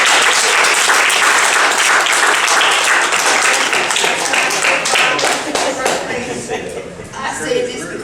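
Audience applause for a group of guests fills the room loudly and steadily, dense clapping that thins and fades toward the end, with some voices mixed in.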